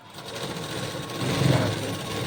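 A sewing machine stitching fabric piping, a fast steady mechanical whir running continuously and close throughout.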